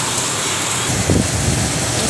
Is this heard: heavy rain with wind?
yes